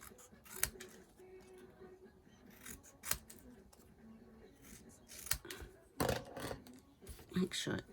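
Scissors cut out a stamped paper card up close, with sparse, sharp snips scattered among quieter rustles and handling noises, and a few louder cuts toward the end.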